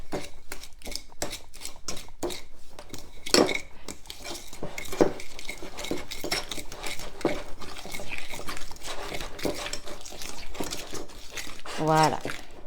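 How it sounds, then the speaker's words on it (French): Butter and sugar being mixed for petit beurre biscuit dough, a spoon or utensil scraping and clinking against a bowl in an irregular rhythm, close and fairly quiet, with a few louder knocks. "on mélange le beurre et le sucre"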